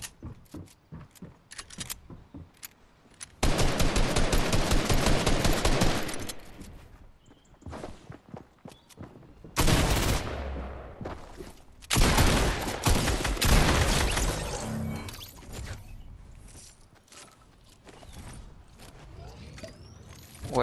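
Bursts of rapid gunfire in a Fortnite duo match, coming in several loud clusters separated by quieter stretches of movement and mechanical clicks.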